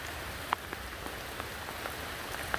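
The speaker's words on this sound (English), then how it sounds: "it's real relaxing to walk in the rain once you get settled in." Rain falls steadily along the Appalachian Trail between Front Royal and Harpers Ferry, a faint, soft hiss with scattered louder drips tapping nearby, no voices.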